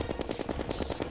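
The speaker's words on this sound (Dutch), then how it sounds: "Gewoon blijven schieten." Rapid, steady bursts of gunfire from Terraria, a regular pulsing rhythm of repeated shots filling the whole moment, moderately loud with no talking over it.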